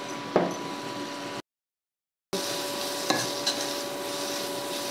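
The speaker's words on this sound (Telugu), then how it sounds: "బీరకాయ తొక్కులు చక్కగా వేగినవి ఇంకా కొంచెం వేగాలి" Ridge gourd peels with salt and turmeric fry in a pan, a moderate steady sizzle with occasional spatula clicks and knocks, broken by a short stretch of complete silence before resuming, with no speech.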